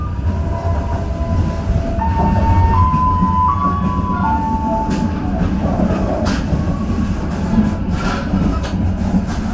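The Sancaka Utara passenger train rolls along the rails with a loud, steady rumble heard from on board, with clacks from the wheels and a few brief tonal whines rising and falling.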